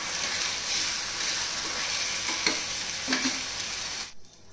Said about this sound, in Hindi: लो फ्लेम पे ही हम चटनी को पकाएंगे।